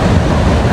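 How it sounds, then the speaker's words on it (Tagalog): Sea surf along the coast near Bilbao, Spain, roars as a steady, loud broadband wash, with wind noise mixed in and no voices. "Ang ingay ng dagat."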